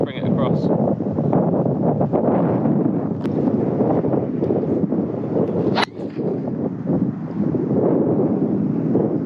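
Gusty wind on the Hindhead golf course, above a downhill blind tee shot, roars steadily into the microphone as loud, continuous buffeting rumble throughout, with only a brief dip near the middle.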